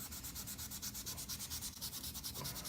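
A 40-year-old uncleaned cork fly rod handle being scrubbed clean, steady rhythmic back-and-forth rasping strokes at an even pace, close-up and quiet.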